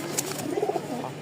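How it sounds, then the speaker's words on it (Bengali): Pairs of racer, lakkha and Rajshahi Giribaz pigeons in a loft in Mirpur, Dhaka give soft, close, repeated throaty coos over a low background hum. "মোট এখানে হচ্ছে 2 পেয়ার কবুতর"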